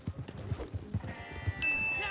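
Hooves thud in an uneven rhythm in Red Dead Redemption Online, close and moderately loud, then give way to a sustained tonal game sound.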